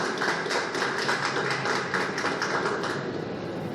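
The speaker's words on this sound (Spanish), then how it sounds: "Un fuerte aplauso para el doctor Marcial Méndez" An audience at an academic teachers' conference in Honduras applauds, a steady crackling round of many hands that continues evenly for a few seconds before easing slightly.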